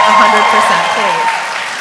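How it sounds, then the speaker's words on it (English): Audience applause at a film festival Q&A, a brief burst of clapping that fades over a couple of seconds, with a voice speaking over it. "Yes, we can applaud for But I'm a Cheerleader."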